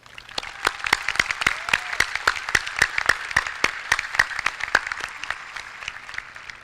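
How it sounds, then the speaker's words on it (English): A graduation audience at a high school ceremony claps, with sharp individual claps from a small group clearly heard in an even, steady run, moderately loud and with no talk. "let's give them a round of applause"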